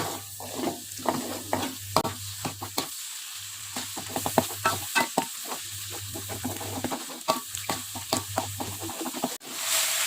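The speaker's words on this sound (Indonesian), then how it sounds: "Nah, ini kita aduk, kita masak bumbunya ini matang ya." Spice paste for tongseng with tofu and tempeh frying in a pan, a steady sizzle under repeated scraping strokes of a stirring utensil, close and loud, with no talking.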